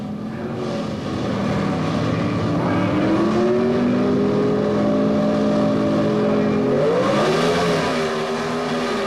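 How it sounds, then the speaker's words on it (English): A powerful Ford Mustang and a Chevrolet Monza launch side by side at a 1977 NHRA drag race. Loud, sustained engine roar climbs steadily in pitch and stays close and dominant, with another rising surge near the end. "Bob Ingalls leaving the line first, drifting somewhat close to the center line, but that powerful Ford Mustang pulls out the win"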